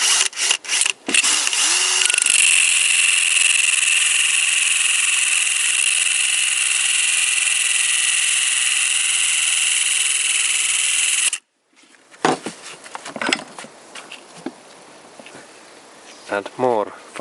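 An electric drill fitted with a cutting disc grinds through a steel bolt in one loud, steady high-pitched whine of about nine seconds, then stops abruptly, followed by scattered clanks and handling noises.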